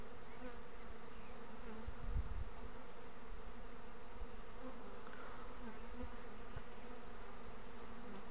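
A honeybee swarm buzzing around a hive, a steady, continuous hum of many insects at low level with no talking.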